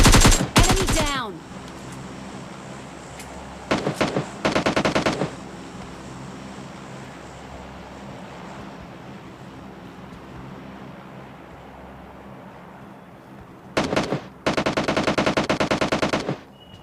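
Automatic gunfire rings out in PUBG Lite, with rapid bursts of shots at the start, a few short volleys midway, and a longer loud burst near the end over a steady low background hum.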